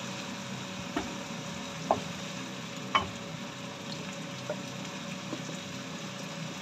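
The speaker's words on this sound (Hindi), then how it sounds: "थोड़ा सा पानी शामिल करेंगे।" Spices for a daal mash recipe frying in a pan, with a little water added, give a soft continuous sizzle and hiss, with a few faint clinks of stirring, fairly quiet and without talk.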